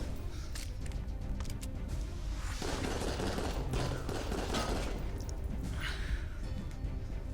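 Gunfire in the VR video game Raw Data rattles out in dense, rapid bursts with thuds and crashes, loud and continuous over a busy game soundscape.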